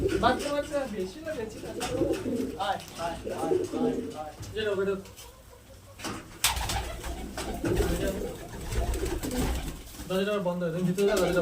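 Domestic pigeons of the udu and powder breeds cooing in a loft, with repeated throaty coos layered together and a person talking intermittently nearby.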